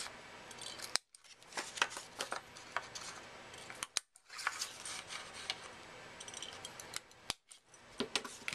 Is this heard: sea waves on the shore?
no